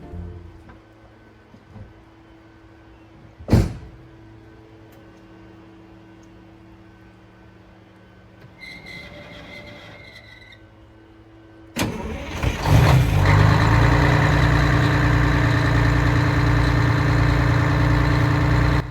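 After some faint clicks and a brief whine, a Detroit Diesel 6V92 engine cranks and catches, then settles into a steady, rumbling idle up close.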